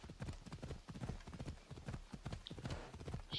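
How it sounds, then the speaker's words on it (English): A horse's hooves clip-clop at a brisk, steady gait in Assassin's Creed Odyssey, close and rhythmic, with a few faint higher chimes over the trotting. "I can actually fight from the horse."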